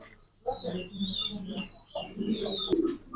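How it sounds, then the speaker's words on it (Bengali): Fancy pigeons, white Pomeranian-type birds with feathered feet, at a pigeon farm in Rajshahi give a few soft, close cooing calls in quick succession against a quiet background. "দেখেন বিশাল কবুতর"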